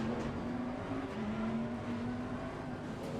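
Bentley Continental GT3 race car engine in Assetto Corsa Competizione, a steady sustained drone with a prominent low tone holding roughly constant, as if cruising at a fairly even speed.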